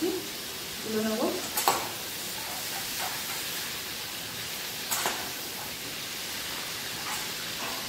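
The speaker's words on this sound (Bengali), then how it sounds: "দিয়ে দেবো চিংড়ি মাছ। এইভাবে ভেজে নিচ্ছি" Prawns fry in hot oil in a pan, giving a steady, fairly soft sizzle with a few brief clinks of stirring and a faint voice near the start.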